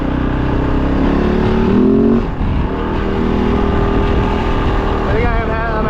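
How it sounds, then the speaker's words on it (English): A Kove 450 dirt bike with advanced ignition timing drones loudly and steadily under acceleration, its engine note holding and then climbing in pitch as the throttle opens. "the bike used to labor more than that, and now it wants to pull"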